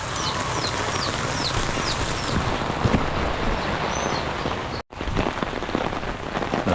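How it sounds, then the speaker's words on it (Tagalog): Steady rain, three weeks without stopping, pours down on a hard surface, a dense continuous hiss of drops with faint birdsong chirps far off and a brief dropout midway. "Mahigit ano na, 3 linggo na straight yung ulan"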